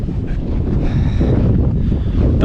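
Strong wind blows in gusts over melting snow at a gold camp in about +3 degrees, roaring and buffeting the microphone loudly and close throughout with no talking.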